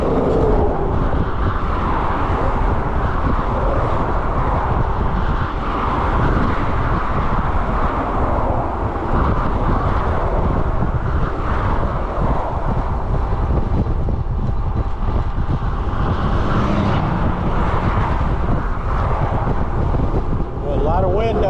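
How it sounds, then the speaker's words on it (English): Friday road traffic near a trail, heard while riding a bike along the upper Pinellas Trail, a continuous loud roar of passing vehicles mixed with heavy wind buffeting the microphone for the whole stretch. "Friday traffic."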